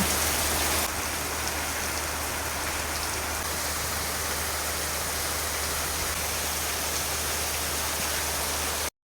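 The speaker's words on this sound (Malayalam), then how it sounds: "മഴയുണ്ടല്ലോ, നല്ല കട്ടിക്ക് പെയ്തു." Heavy night rain pours down in Sigiriya, Sri Lanka, in a dense, constant roar, loud and unbroken throughout, with no voices.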